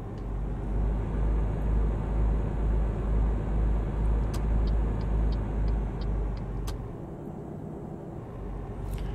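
A Scania V8 truck engine in Euro Truck Simulator 2 cruising steadily, a deep continuous low rumble with slight pulsing, a few faint high ticks above it, easing a little near the end; no voices.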